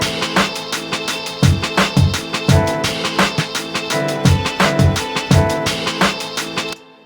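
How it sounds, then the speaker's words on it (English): Melody processed to sound like an old sample, with a drum beat added: dense, warm chords over punchy kicks and snares in a steady loop, loud and continuous until it cuts off at the end, no talking. "So if we add some drums in, it'll sound like this."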